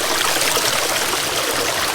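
Stream water flowing over rocks during a hike in the Peloponnese, southern Greece, a loud, close, continuous bright rush and trickle heard alone.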